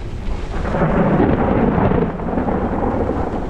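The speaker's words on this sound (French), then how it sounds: "il y a des éclairs" A thunderstorm out on the open road during a long gravel bike ride, with a steady broadband wash of rain and low rumbling thunder swelling through the middle, loud and continuous with no voices.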